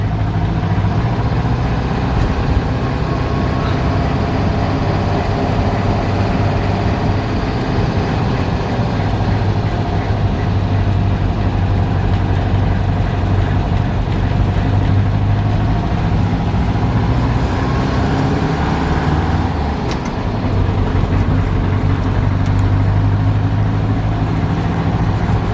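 A 1977 Volkswagen Transporter bus engine runs steadily while driving on empty streets, a continuous low mechanical drone with road noise that swells and eases slightly, heard from inside the bus.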